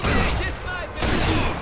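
Rifle fire from the video game Sniper Elite V2 comes as loud, dense gunshot blasts that fill a brief burst of play.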